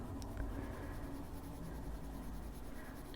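Steady, soft scratching of a colored pencil moving across paper, continuous and close, with no voices.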